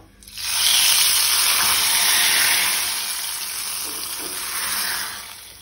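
Hot spiced oil tempering with mustard seeds and curry leaves hits mixed vegetables of cauliflower, green peas and potato, bursting into a loud, close sizzle that swells quickly and then hisses steadily, easing slightly before a final surge.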